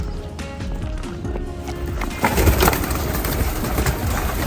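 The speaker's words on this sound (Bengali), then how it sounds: "আমাদের এখানে কবুতর পালে" Pigeons kept at a fish farm in Jedda, Saudi Arabia, coo and rustle amid a busy outdoor background, with a louder burst of movement midway, fairly close and without speech.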